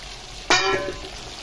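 Spices drop into a hot pan, setting off a sudden sharp sizzling burst that fades into a lighter fry over a second, close and loud with no talking.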